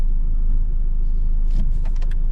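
Inside a taxi in Kyiv, the engine rumbles low and steady as the car turns around, with a few faint clicks and rustles late on.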